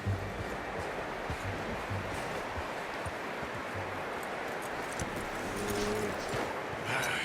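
Horse hooves clip-clop at a steady walking pace in the Red Dead Redemption 2 video game, moderately close, over a constant rustling outdoor ambience.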